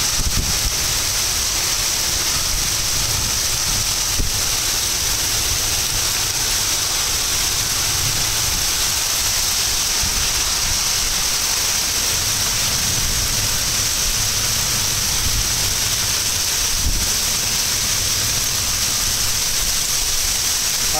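Torrential rain with strong wind roars steadily, a dense wash of rain, constant loud hiss and low rumble buffeting the microphone throughout.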